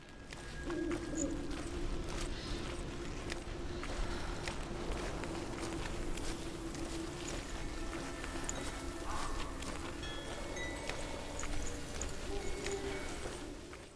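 Outdoor ambience from Hellblade: Senua's Sacrifice, a steady wash of wind with scattered bird calls and soft footsteps throughout, continuous and moderately loud with no speech.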